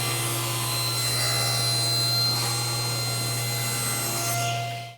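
A saw cuts wooden strips for a jewelry box, giving a steady, close motor hum with a rasping bite through the wood that winds down at the end.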